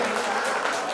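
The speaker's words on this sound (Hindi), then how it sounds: "जोरदार तालियों से इस्तकबाल कीजिए" Applause from an audience at an Indian mushaira poetry gathering in Umarkhed, Maharashtra: a dense, steady wash of clapping from many hands that stays loud and continuous throughout.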